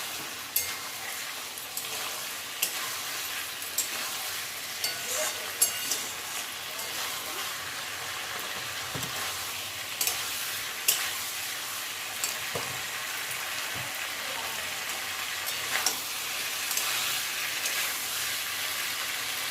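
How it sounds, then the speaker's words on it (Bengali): Teasel gourd and other vegetables are sautéed and stirred in a pan. A soft, continuous frying hiss carries light, irregular clinks and scrapes of the spoon, heard fairly quietly and without speech. "এবার ভালো করে কষিয়ে নিচ্ছি"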